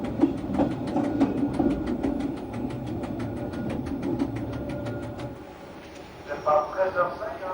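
A rail car set on a Fribourg railway line, heard from on board with rhythmic wheel clicks and a low engine hum that fade as the train slows to a stop, followed by quieter cabin sounds and brief chimes.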